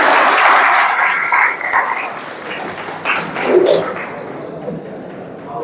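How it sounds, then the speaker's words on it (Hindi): An audience at a college mental health awareness program claps for the teachers, a burst of applause that fades and swells again under a speaker's voice. "जोरदार ताली सर लोगों के लिए"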